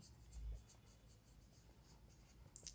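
Pen or pencil scratching steadily across paper while a maths solution is written out, quiet and close, with a brief sharper scratch near the end and no speech.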